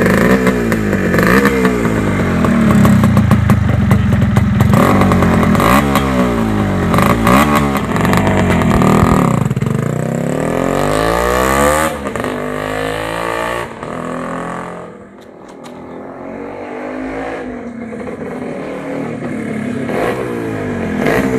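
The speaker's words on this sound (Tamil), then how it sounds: "ப்ரோ இப்போ பைக் நான் ஓட்டி பார்க்கலாமா? சவுண்ட் எப்படி இருக்குன்னு செக் பண்ணலாமா?" A modified 1995 Suzuki Shogun motorcycle with a racing silencer revs repeatedly and loudly close by, its engine rising and falling in sharp bursts, then settling into a lower idle and rumbling again.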